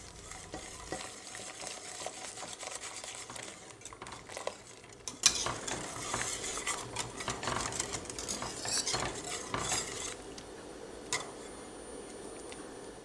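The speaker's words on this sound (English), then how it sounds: "Add slowly while stirring continuously." A spoon stirs a rice and milk pudding mixture for Turkish sütlaç in a pot. Scraping and clinking start quietly, then grow busier and more continuous partway through, close by and with no talk.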